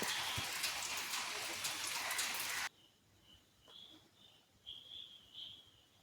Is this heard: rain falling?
yes